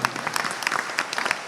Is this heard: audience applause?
yes